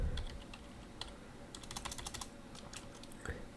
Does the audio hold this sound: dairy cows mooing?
no